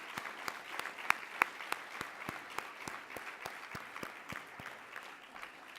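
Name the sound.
audience applause for volunteer team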